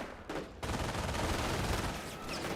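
An MG42 machine gun fires in Company of Heroes, a loud, rapid ripping burst of extremely fast shots that starts abruptly and runs continuously for a couple of seconds, with no talking.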